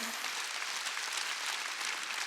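A church congregation at a Sunday worship service applauding steadily, a dense wash of clapping with no break and no talking.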